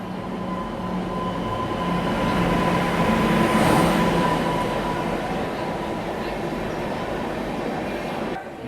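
The Bhusawal-Surat Express pulls into Surat railway station, a steady loud rumble of the train running alongside the platform for several seconds, swelling slightly in the middle with faint high squeals over it.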